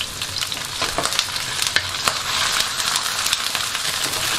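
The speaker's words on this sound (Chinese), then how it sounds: "放进去翻炒一下" Sea worms stir-fried in a hot wok give a steady, loud sizzle broken by irregular scraping and tossing clicks from the spatula, close up and with no voices.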